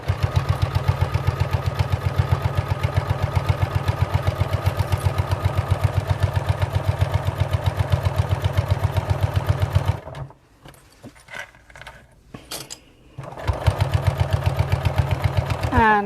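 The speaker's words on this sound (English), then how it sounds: "And I'm coming to that bulky area again, so I want to sew into the seam aid this time." A sewing machine runs steadily at close range, stitching through a tote bag into a bulky seam aid, then pauses briefly with faint handling noises before the motor resumes its rapid, even whir.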